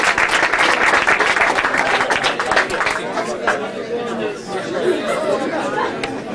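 Applause and crowd chatter from a live audience cheering a team called the Jacks All-Stars at a TV trivia-style event, a steady dense wash of clapping and voices that eases slightly midway.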